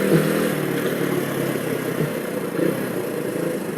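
Motorcycle accelerating hard up a dual carriageway, its engine a steady, loud mid-pitched drone with road and wind rush throughout, swelling slightly near the end.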